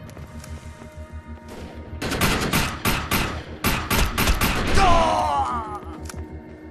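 Rapid bursts of gunfire from the shooter video game Defiance come in a dense rhythmic volley of loud close shots, preceded by a quieter game backdrop.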